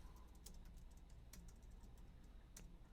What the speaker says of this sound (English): I have a hard time typing that star.